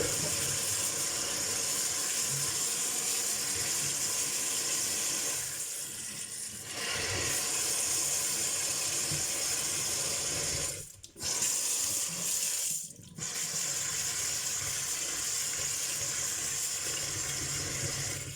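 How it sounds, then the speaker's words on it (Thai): Tap water runs steadily into a sink as vegetables are washed, a continuous close rushing stream broken by two brief pauses. "นี้เราก็จะล้างแล้ว ทำความสะอาด โดยการเปิดน้ำขังหลายๆรอบ"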